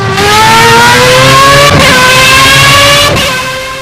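A Formula A race car engine in the Project Cars racing game screams at high revs, pitch climbing steadily with two brief gear-shift dips, loud and close with no talking.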